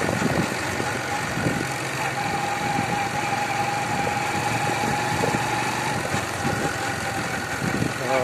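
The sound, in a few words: vehicle passing on a road in dense fog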